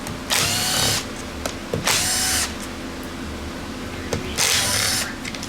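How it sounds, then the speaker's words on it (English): A power tool spins out clutch cover bolts on a KTM 300 motor, three close, loud whirring bursts of about a second each, separated by pauses with faint clicks. "So I'm just going to take the bolts out for the whole thing"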